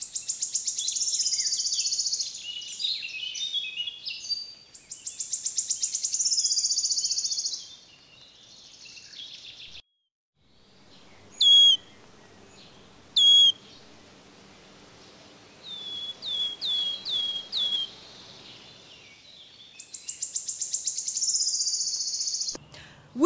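A wood warbler sings repeated accelerating trills ending in a shivering flourish, clear and fairly close, interleaved with short piping calls and a quieter stretch of faint outdoor ambience.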